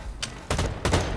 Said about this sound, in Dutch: Ik hoop dat de schoten niet te hard zijn.